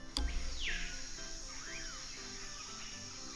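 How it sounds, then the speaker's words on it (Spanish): Birds and insects from the Ambient Sounds mod for Minecraft 1.16.3, with a faint steady insect buzz and a few soft, brief sweeping bird chirps, quiet and without speech. "es un mod que añade sonidos de la naturaleza al juego, muy realistas, ya puedan ser de aves, de insectos"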